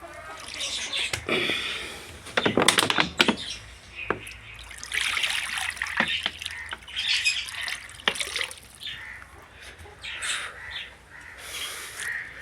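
Chickens squawking as water is poured for them, with scattered sharp squawks and clucks in bursts and a faint trickle of water in between, close by and fairly loud.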